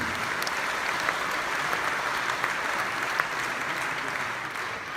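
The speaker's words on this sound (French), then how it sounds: "Un tonnerre d'applaudissements aussi." A large audience at a magic gala opening applauds in a thick, continuous wash of clapping that holds steady throughout, with no one speaking.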